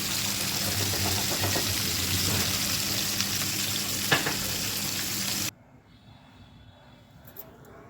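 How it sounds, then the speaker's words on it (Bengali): Spice-marinated fish fries in hot oil in a kadai, a loud dense sizzle that cuts off abruptly near the end, leaving a faint low background hum. "মশলা মাখানো মাছগুলোকে একে একে করে দিয়ে ভেজে নেওয়া হচ্ছে"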